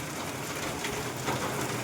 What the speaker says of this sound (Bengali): মনে হচ্ছে বৃষ্টি থামার নাই